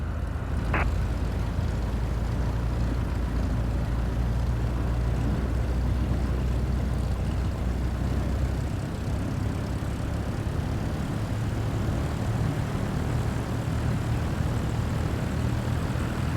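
An airplane in Flight Simulator 2024 taxiing onto the runway, with a steady, loud engine and propeller drone that holds constant throughout, with no talk.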